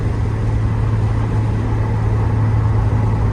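A 1990 Porsche 944 S2 Cabriolet with a five-speed gearbox cruises in fifth gear at about 3,400 RPM. Its engine makes a steady, even drone from inside the car with no change in pitch.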